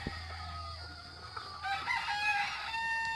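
Hens settle in nesting boxes while a rooster crows partway through, a drawn-out call over soft clucking and low background farmyard noise.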